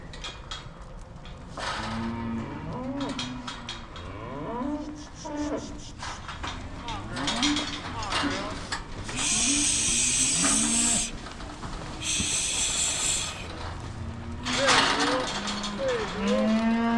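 Cattle moo repeatedly while being turned around in corrals at a reined cowhorse show, several drawn-out calls overlapping amid clanking gate and pen noise, with faint voices in the background.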